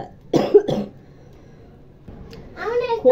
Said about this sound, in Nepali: अलिकति धेरै बोलेको त खोकी आइहाल्छ